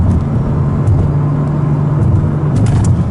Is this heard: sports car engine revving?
yes